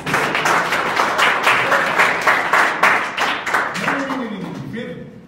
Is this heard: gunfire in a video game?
no